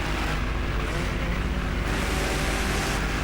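Honda NSX and Corvette C5 engines rev hard in a street chase, a loud continuous roar with surging texture and faint wash of wind, with no talk over it.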